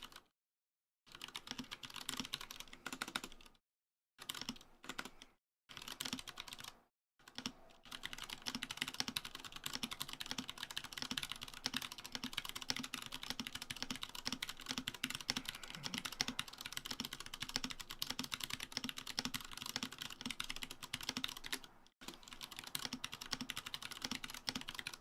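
Steady typing on a mechanical keyboard fitted with lubed Cherry MX Brown switches, a close, continuous patter of keystrokes with a few short pauses early on.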